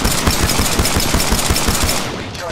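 Loud, rapid automatic gunfire rattles nonstop in the Apex Legends video game, a dense burst of close shots that thins slightly in its last half second.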